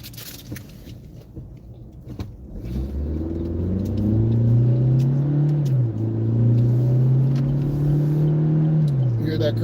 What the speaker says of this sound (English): You hear that car shifting?